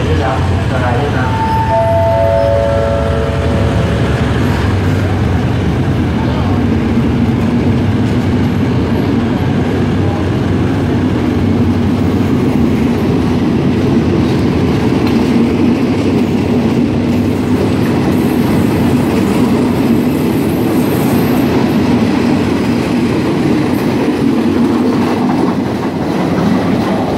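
Train at Phatthalung railway station in Thailand, a steady loud rumble of railcars rolling past with rhythmic wheel clatter, a brief horn-like tone early on, and a voice talking over it.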